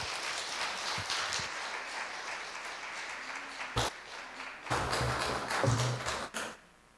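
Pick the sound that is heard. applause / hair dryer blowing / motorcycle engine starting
applause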